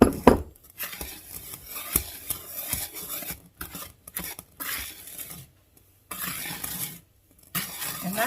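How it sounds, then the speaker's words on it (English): Dry pancake mix ingredients are stirred in a bowl, producing close scraping and rubbing strokes in uneven bursts separated by short pauses, with a few light clinks of a utensil. "And all you do is you just mix all that up."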